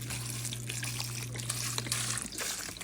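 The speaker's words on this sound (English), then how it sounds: "And we're going to dump this chicken broth" Chicken broth pours from a bottle into a pot for a beans and ham hocks dish, a steady close liquid splash and trickle lasting nearly three seconds over a low kitchen hum, with no talking.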